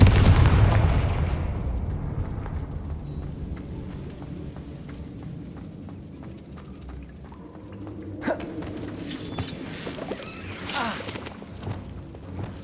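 A Confringo fire spell explodes in the PC game Hogwarts Legacy: a deep, loud booming burst opens and fades into a low rumble, followed later by a few sharper crackling impacts over steady game ambience.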